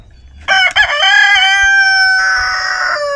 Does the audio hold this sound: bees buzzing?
no